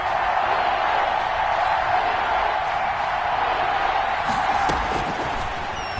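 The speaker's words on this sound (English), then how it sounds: "The crowd getting into it as we come up on a big third down." Football stadium crowd cheering and building in noise ahead of a big third down in a Colts game, a steady broad roar with scattered claps and shouts, fading slightly at the end.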